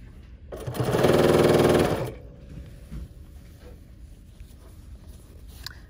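BERNINA sewing machine with binding foot #71 stitching binding onto fabric, a close whirring, rapid mechanical run of about a second and a half that then stops, leaving quiet room sound.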